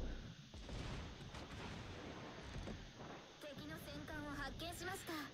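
Heavy battleship guns firing shells in World of Warships aboard the Ise, a dense loud rumbling blast wash with booming impacts, followed by a voice talking over the din.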